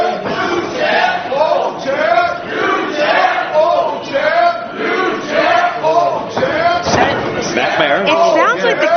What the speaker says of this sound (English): It sounds like the crowd is pretty split here.